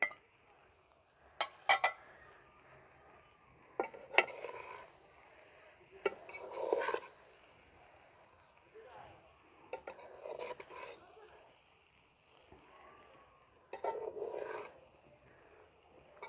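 Vegetable fried rice with fried eggs being mixed in a pan, with intermittent bursts of stirring scrapes and clinks separated by quiet pauses, fairly faint and without talk.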